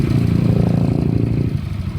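A motorcycle engine running at idle nearby, a loud, steady low putter with rapid regular pulses that eases slightly toward the end.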